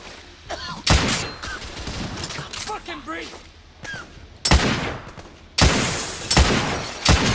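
Gunfire from the video game The Order: 1886, with loud shotgun blasts and bursts of shots in a firefight, arriving in a few sharp clusters amid softer game sounds and effects.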